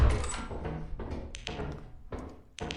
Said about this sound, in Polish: Otwieram drzwi.